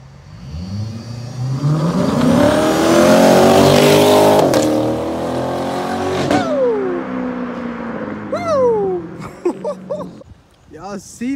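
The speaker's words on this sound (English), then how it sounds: "Big Corvette." Chevrolet Corvette C7 Stingray engine revving up loudly and close, pitch climbing then easing off, with excited voices talking over it toward the end.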